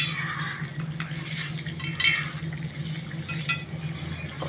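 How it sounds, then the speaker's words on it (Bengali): Bottle gourd curry with ghee is stirred in a pot, giving soft, steady scraping and swishing with a faint simmer underneath, close and continuous for a few seconds. "খুব ভালো করে মিশিয়ে নিলাম ঘিয়ের সাথে।"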